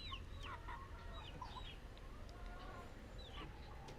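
Rhode Island chickens cluck in a coop, repeated short clucks and squawks from several birds at close to mid distance over a low rumbling background.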